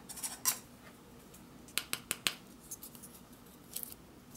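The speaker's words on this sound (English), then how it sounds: "I had to break out an actual genuine MRE spoon to get into this honey" A metal MRE spoon scraping and clicking against solidified honey from a Lithuanian combat ration, a few sharp quiet taps and scrapes in a cluster, close and faint with no talking.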